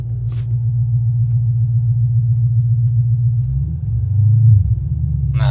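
A manual car in reverse gear with a suspected drivetrain fault gives a loud, close, steady low engine rumble as the clutch is released, with a brief rise and bump in the engine note near the end.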